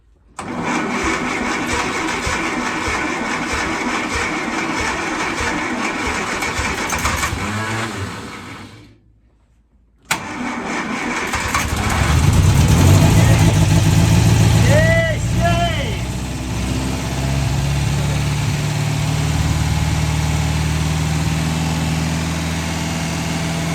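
A car's engine cranks and runs, drops out into silence, then starts again on a rebuilt dashboard wiring job and settles into a loud, close, rumbling idle with a few revs, while voices talk over it.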